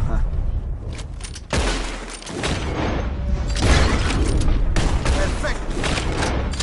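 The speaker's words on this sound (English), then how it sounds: "Whoever shoots more of these bottles wins." Revolver shots fired at bottles in Red Dead Redemption 2, a series of sharp cracks over several seconds amid game ambience, with a voice speaking briefly.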